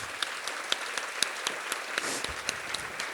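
An audience applauds an award winner coming up, a fairly faint, steady patter of many hands clapping at a distance, with scattered sharper claps standing out.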